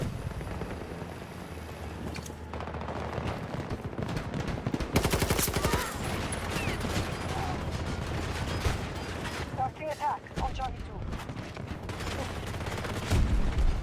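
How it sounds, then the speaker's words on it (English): Rapid bursts of gunfire and mechanical clatter from a Battlefield 2042 match, with a helicopter-like drone and loud near shots under a busy game mix. "Someone's shooting."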